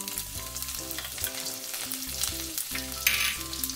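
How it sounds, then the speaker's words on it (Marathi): Cumin, garlic, ginger and green chili spit and sizzle in hot oil for a tempering, a continuous crackle mixed under prominent background music with no voices. "यामध्येच फोडणी देते। थोडं जिरं घालते फोडणीमध्ये।"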